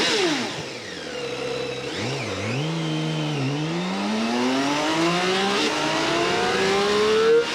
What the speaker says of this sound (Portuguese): E vou fazer aqui um arranque, para ver o power dela,